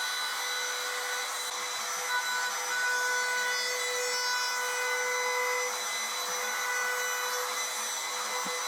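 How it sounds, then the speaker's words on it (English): A router cuts a new channel around plywood trim pieces on a plywood end grain table top, giving a steady, loud high whine with a broad rasping wood-cutting hiss that runs continuously without talk. "I've decided instead to route out a new channel around the trim"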